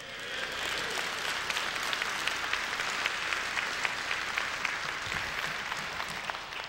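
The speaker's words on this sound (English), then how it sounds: "You're clapping" Sustained applause from a church congregation during a sermon on home discipleship, many hands clapping in a dense, even roar that holds steady at a fairly loud level throughout, with no speech over it.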